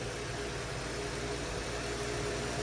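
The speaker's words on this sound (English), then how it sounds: "But otherwise it's just barely idling. It'll run at about 500 RPM." A 1978 Lincoln Continental engine barely idling at about 500 RPM, a steady, close, low rumbling drone with no talk over it.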